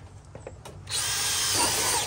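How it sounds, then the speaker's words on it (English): After a quiet moment, a power drill starts up and whirs steadily at high speed into wood, loud and close, grinding continuously until the end. "Grandpa's going to drill a couple holes."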